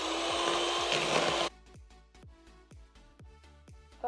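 An electric mixer whips cream to stiff peaks, a loud steady motor whine for the first stretch that cuts off abruptly, followed by a run of soft repeated thumps and scraping knocks close by.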